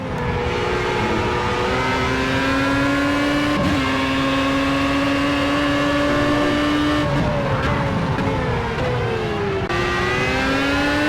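Formula A open-wheel race car in Project CARS at Laguna Seca, engine screaming at high revs as it accelerates and shifts through gears, loud and close throughout, with another car's engine audible nearby.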